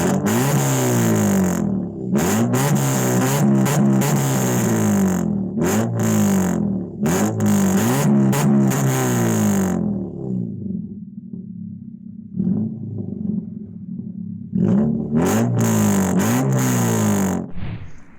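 Modified Honda EP2 Civic with a straight pipe exhaust revving hard: loud, close engine blips that rise and fall repeatedly, a calmer idle stretch in the middle, then more sharp revs near the end.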